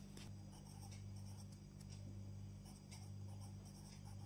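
A pen scratches across paper in faint, quick handwriting strokes over a steady low hum in a quiet room, with no voices.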